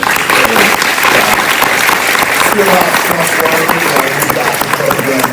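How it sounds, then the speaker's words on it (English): An audience at a county NAACP branch event breaks into a loud, sustained round of applause, with a voice carrying over the clapping. "please join me in a round of applause for Amanda Hopkins"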